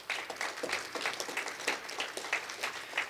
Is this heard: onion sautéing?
no